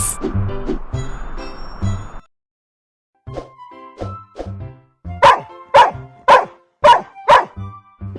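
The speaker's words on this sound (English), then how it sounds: "Dog." A dog barks in a children's animated animal lesson, with five sharp, evenly spaced close barks after softer yips, following a short burst of music.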